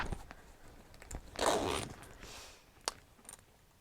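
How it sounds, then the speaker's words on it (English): Dual zippers on the quilted front pocket of a vintage-style handbag are pulled open in a quiet room, giving a brief soft zip burst with a few light handling taps around it. "We have this quilted front pocket, which opens up by the dual zippers at the front here."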